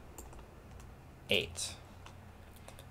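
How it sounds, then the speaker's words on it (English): A few quick clicks on a computer keyboard as a short answer is typed, close and crisp, with a louder pair of keystrokes in the middle and a brief spoken number. "And so we'll type that in."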